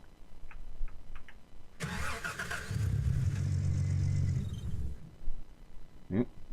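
A vehicle engine in the Gold Rush video game turns over, runs roughly for a few seconds, then cuts out as it stalls, with small clicks before and a thump after.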